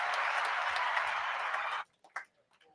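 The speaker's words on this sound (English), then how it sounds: "Let's give it a round of applause for Josh getting up here with us." An audience at a sports business conference gives a round of applause, a dense burst of clapping that runs for almost two seconds, then cuts off and leaves only a few scattered claps.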